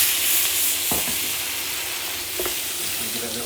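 Lamb shoulder with roasted garlic, bacon and garden peas sizzling in a hot pan, a dense steady crackle with a couple of sharp scraping knocks as the meat is rolled around, close and without talk.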